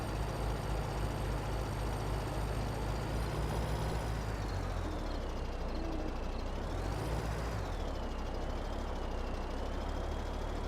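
Vehicle in Farming Simulator 2017 reversing while pushing a trailer, a steady loud engine drone with shifting whine as it strains backward.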